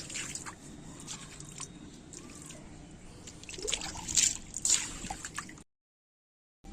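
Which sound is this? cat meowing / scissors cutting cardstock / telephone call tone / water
water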